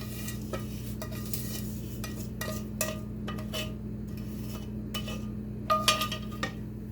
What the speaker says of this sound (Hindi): अब इस वक्त इसमें मैं ये सवैयाँ जो हमने फ्राई करके रखी हैं, ये मैं सारी सवैयाँ इसमें ऐड कर दूँगी